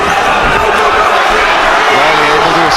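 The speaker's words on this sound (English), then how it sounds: "The crowd going wild." A packed crowd roars loudly and continuously at a Cage Warriors MMA fight in Manchester, a dense, unbroken wall of cheering and shouting with a commentator talking over it.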